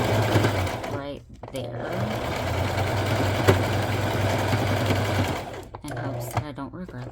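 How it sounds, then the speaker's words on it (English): Sewing machine running steadily while stitching a shabby chic coffee filter pocket, a close, continuous mechanical whir with brief pauses, as someone speaks over it. "I am going to sew"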